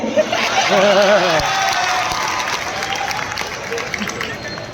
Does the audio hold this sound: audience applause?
yes